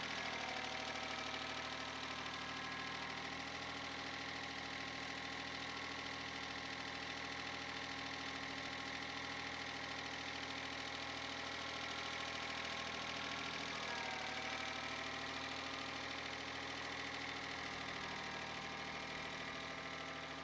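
A heavy diesel tractor engine runs steadily on slippery ground throughout, a low rumbling drone with a slight dip in pitch midway, close and continuous with no voices.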